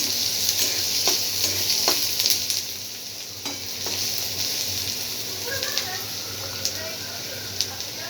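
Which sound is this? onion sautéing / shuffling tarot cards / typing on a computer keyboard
onion sautéing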